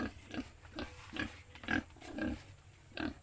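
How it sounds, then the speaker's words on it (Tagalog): A pet pig on a farm grunts repeatedly in short, evenly spaced snorts, close to the listener, with no speech over it. "ito yung alaga namin baboy"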